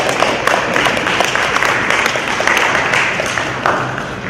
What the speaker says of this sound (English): you don't know you should be clapping.